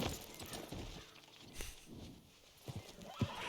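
Horse neighs and hooves clip-clop in the Red Dead Redemption video game, a few soft scattered hoof thuds and short whinny bursts at moderate distance over a faint background.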